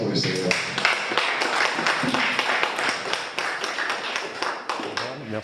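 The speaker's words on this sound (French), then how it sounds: "Applaudissons pour le Seigneur" A church congregation claps along together for the Lord, a dense, fairly loud patter of many hands with sharper accents, mixed with voices talking or singing throughout.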